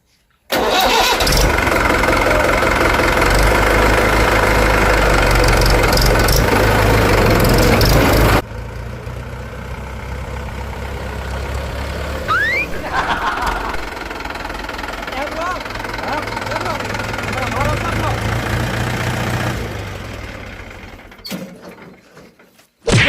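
A tractor engine starts and runs loudly close by, with a heavy low rumble that drops to a quieter idle partway through, voices heard over the running engine before it cuts off.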